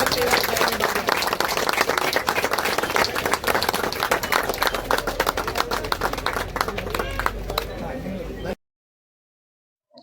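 Audience at an International Democracy Day event in Bagalkot clapping together: dense, loud, sustained applause with crisp individual claps that fades slightly before cutting off to silence.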